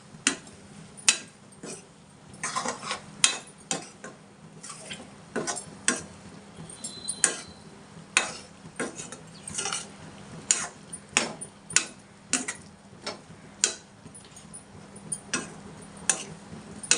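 Garam masala is stirred into goat offal fry in a pan, heard as a steady run of sharp clicks and taps from a spoon striking the pan, roughly one or two per second, fairly close and alone.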